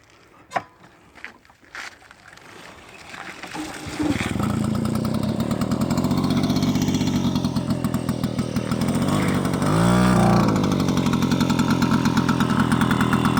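A few clicks and sputters, then the small two-stroke engine of a vintage Motobécane Mobyx X7 moped catches and runs loudly with a buzzing rattle, briefly revving higher near the end.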